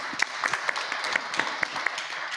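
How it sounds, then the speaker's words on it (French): Brief, light applause from a small audience at a public heritage-award candidate hearing, a few sparse claps over a soft room background. "On vous applaudit à nouveau."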